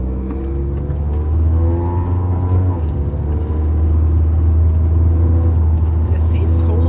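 A 1992 Honda Prelude drives along with a steady engine hum and road rumble from inside the cabin, and one person talks throughout.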